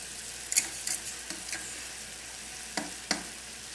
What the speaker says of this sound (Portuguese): Pega o faquinho e vai mexendo.